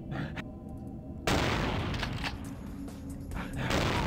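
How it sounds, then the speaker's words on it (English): A shotgun blast in the vampire video game Vampire: The Masquerade – Bloodlines, one loud sudden boom followed by rumbling gunfire and action noise that stays dense to the end. "And I'm using the shotgun because the ammo is absolutely free."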